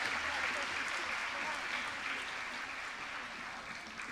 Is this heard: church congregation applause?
yes